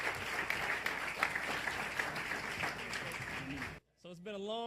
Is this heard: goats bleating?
no